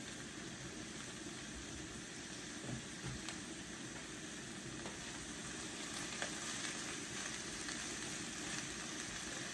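Kielbasa and a head of chopped cabbage fry in a pan with a steady close sizzle and hiss, broken by occasional light clinks and scrapes of a metal spoon stirring.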